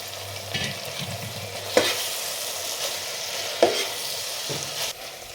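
Mashed boiled chickpeas stirred into a frying masala gravy in a pan, a steady sizzle with a spoon scraping and knocking against the pan a few times, close and fairly loud, no voices.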